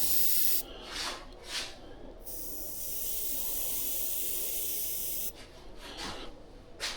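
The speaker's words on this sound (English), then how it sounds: "Just spraying the coat on." Spray paint hisses onto the coat of a whitetail deer mount, a long steady close-up spray with short bursts at the start and end, with no talk over it.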